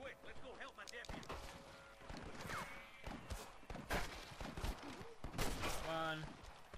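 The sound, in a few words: gunshots in the video game Red Dead Redemption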